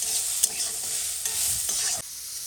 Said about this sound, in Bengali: পেঁয়াজটা একটু লাল লাল হোক